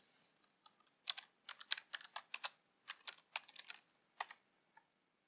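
Someone types a password on a computer keyboard in quick irregular bursts of close, crisp key clicks with short pauses between them. No one speaks.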